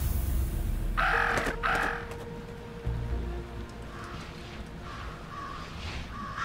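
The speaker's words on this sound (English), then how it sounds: "Talk about a murder of crows." Crows caw in the video game Jenny LeClue, two or three harsh calls close together near the start and fainter, more distant caws later, over a low ambient game soundscape.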